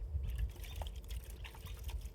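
Clean water poured onto a plant while planting and transplanting, a soft trickling and splashing pour with small drips, close and quiet, running steadily for a couple of seconds without speech.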